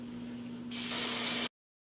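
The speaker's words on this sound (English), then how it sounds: "I'm gonna take some hairspray and then just hairspray." A can of hairspray gives one close, steady hiss lasting under a second over a faint electrical hum, then cuts off abruptly into silence.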